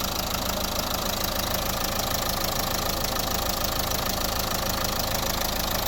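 Close, constant idle of a 2010 Nissan Qashqai+2 1.5 dCi diesel engine with a rough, ticking clatter that holds steady from start to finish, no voices.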